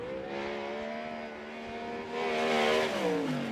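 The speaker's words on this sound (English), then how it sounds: "Sound like Lee Jacobs shut the car down a little early there." A sprint car engine at Wayne County Speedway during Ohio Sprint Speedweek qualifying roars steadily at high revs, then drops off as the car shuts down early, with the pitch falling away near the end.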